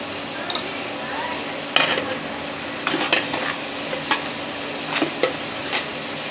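Spices with turmeric powder frying in a pot, a soft continuous sizzle with a sharp clink and a run of scrapes and taps of a utensil against metal, close by, irregularly spaced and without speech.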